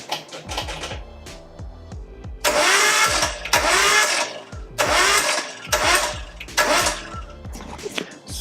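A Nissan RB engine with the spark plugs out turns over on its starter in several bursts, a fast, even, whirring churn that stops and restarts, close and fairly loud.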